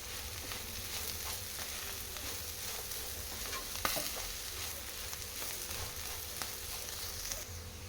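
Broad bean fry with salt being stirred in a pan, a soft continuous sizzle with scattered scraping and clinking of the spoon against the pan, one sharper knock midway, fairly quiet and close, no talking.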